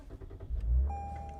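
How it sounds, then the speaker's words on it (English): A Lexus IS350 F engine cranks and catches in a brief low rumble, then settles into a quiet idle hum while a steady dashboard chime tone rings. "start the car"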